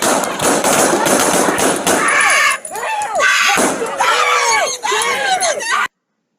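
Sharp gunshots fired by deputies at a man in East Los Angeles, several loud cracks and thuds scattered amid frantic shouting and screaming voices, ending abruptly.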